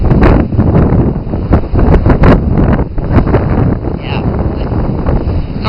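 Strong windstorm gusts buffeting the shore of English Bay in Vancouver, with loud, continuous roaring wind noise and sharp blasts hitting the microphone close up, plus someone talking faintly underneath.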